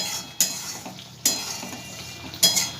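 Spices frying in a pan for a water lily stem (sapla) kosha dish sizzle continuously, while a utensil scrapes and clinks against the pan in three distinct strokes.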